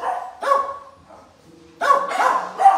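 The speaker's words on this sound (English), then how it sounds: "We have a lot of dogs here." Several dogs bark at an animal society fundraiser, short close yips and barks coming in two bursts with a brief quieter gap between them.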